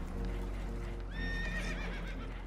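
Horses whinny in Red Dead Redemption 2 aboard a leaking boat, a high shrill neigh rising midway over a steady rumbling backdrop of water and movement, fairly close.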